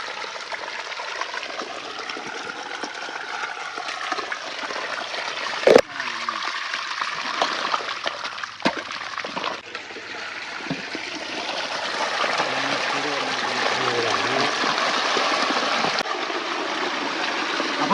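Water gushes through a channel broken open in the earthen dam of a fish pond, a continuous splashing flow heard close up, with a sharp knock partway through and the rush growing fuller toward the end.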